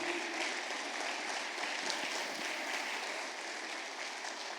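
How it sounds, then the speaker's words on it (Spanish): A church congregation applauds in steady, sustained clapping, moderately distant and filling the room without pause. "Dale ese aplauso a Dios."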